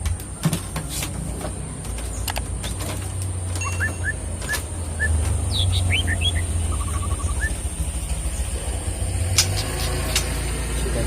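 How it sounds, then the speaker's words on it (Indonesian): Caged murai batu (white-rumped shama) singing in the morning, several short clear whistled phrases and chirps rising over a low steady background hum, with a few sharp clicks and knocks nearby. "Jadi pagi ini saya akan memandikan burung murai saya."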